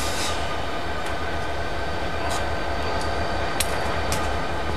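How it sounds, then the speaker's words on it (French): Diesel locomotive in a rail yard, rumbling steadily and continuously at close range with faint metallic clanks and squeaks from the couplings and wagon as it pulls away. "c'est le signal pour mon ami Diesel de s'accrocher au wagon et de partir."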